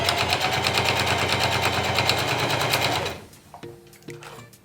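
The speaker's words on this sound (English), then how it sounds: "hold some tension, continue sewing" A sewing machine stitches a fabric sweatband with a loud, rapid, even mechanical chatter for about three seconds, then stops, leaving a few light clicks and handling taps.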